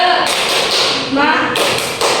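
Several sharp claps strike in a rhythmic pattern in a tepuk semangat chant, with a voice chanting along between the claps.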